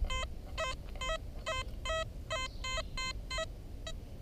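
An XP Deus metal detector in relic mode gives a target signal: a run of about nine short, bright electronic beeps in steady rhythm, close and clear over a low hum of outdoor background noise.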